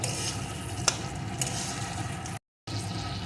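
Onions and eggs sauté in a pan with chilli powder, turmeric and salt, giving a steady close sizzle with stirring scrapes and a brief silent gap near the end.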